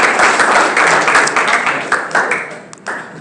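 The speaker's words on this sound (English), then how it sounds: "Another round of applause." Audience applause at a talk in Swindon, dense and loud clapping throughout that thins slightly toward the end.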